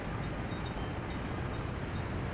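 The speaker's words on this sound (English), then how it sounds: "We should see the train get generated." A train in Workers and Resources rumbles steadily with continuous low rolling noise and a faint high whine, fairly quiet and unbroken.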